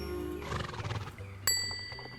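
A horse in Star Stable Online lets out a clear, fairly close whinny, followed by a bright chime and quieter game sounds, with no talking.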